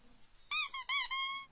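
A small cartoon robot creature from an animated show gives a string of high, bright squeaks: four quick chirping bursts, the last one drawn out longer, close and clear with no talk over them.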